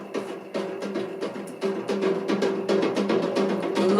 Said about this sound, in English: there is an auto filter on there, so Ableton's finest